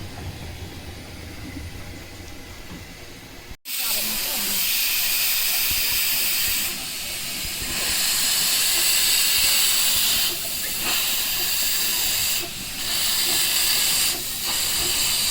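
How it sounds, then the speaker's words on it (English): A steam train standing at a station lets off steam with a sudden loud hiss that bursts in and then roars steadily, broken by brief dips, after a quieter stretch of rumbling station noise. "I think it's letting off a bit of steam."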